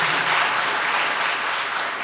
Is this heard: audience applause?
yes